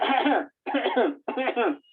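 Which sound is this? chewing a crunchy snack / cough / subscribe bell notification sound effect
cough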